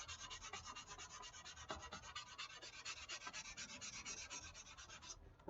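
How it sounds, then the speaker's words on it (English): Sandpaper rubs steadily across a foam model aircraft wing during a repair, a fast, even back-and-forth rasping that stays close and continuous with no talking. "It won't take that long to sand it down"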